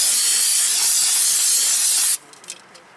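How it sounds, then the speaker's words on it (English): Aerosol can of brake cleaner sprayed onto the front brake hub of a 2017 Honda Civic, a loud steady close-up hiss lasting about two seconds before cutting off sharply into near quiet. "Spray it down with brake cleaner, make sure you got all the debris off of it."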